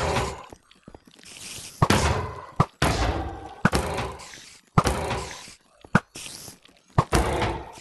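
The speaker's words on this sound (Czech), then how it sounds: "On mě haží granáty." Grenades thrown at the player in modded Minecraft Hexxit burst as a series of punchy, muffled thuds and cracks, spaced irregularly with brief quiet gaps between them.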